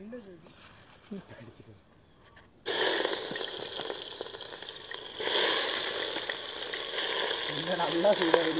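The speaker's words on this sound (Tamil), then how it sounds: "வெங்காயம் போட போகிறேன். எண்ணெய் நல்லா சூடாயிடுச்சு." Sliced onions dropped into very hot oil: a quiet stretch with a voice talking, then an abrupt loud hissing sizzle that swells and keeps crackling strongly, with speech briefly over it.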